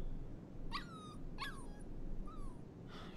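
A puppy named Mushroom in the game Life is Strange 2 lets out three short, high whimpering yips, each a thin falling whine with pauses between, close and fairly quiet over a soft outdoor lakeside background.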